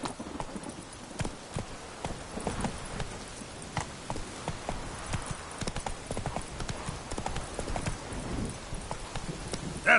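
A horse trots in The Witcher 3, its hooves clip-clopping in a quick, steady rhythm on hard ground, close and continuous, with light ambient game sound underneath.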